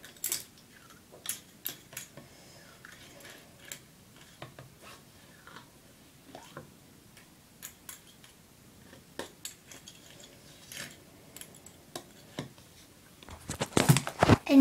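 Small scrapes and clicks of a spoon rubbing a candy mix inside a cup, light and irregular, close up and quiet, ending with a louder rustle.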